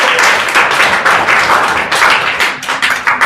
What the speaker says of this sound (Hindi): जोरदार तालियां आ जाए ऋषभ के लिए